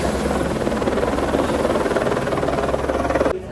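A helicopter at Katra on the way to Vaishnodevi gives a steady, loud rotor drone with rapid low chopping pulses, holding constant throughout before dropping off sharply at the very end.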